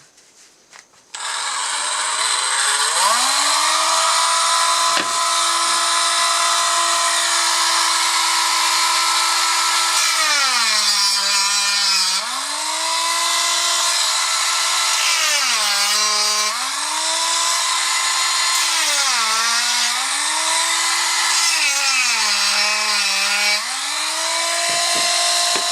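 A rotary tool grinds and drills into four metal samples bonded with steel epoxy, a loud continuous high whine that dips in pitch several times as the bit bites under load, with no talk.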